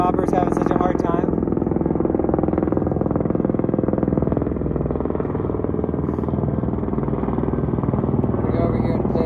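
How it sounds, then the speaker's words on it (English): Helicopters flying through the Nepal mountains make a loud, steady engine and rotor drone that holds throughout without letup, close and dominant. "Choppers having such a hard time."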